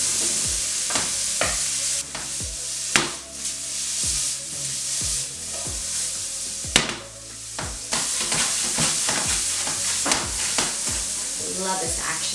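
Sausage and pineapple stir-fried in a hot pan for fried rice: loud continuous sizzling punctuated by repeated scraping and clanking strokes of the utensil against the pan, with no talking.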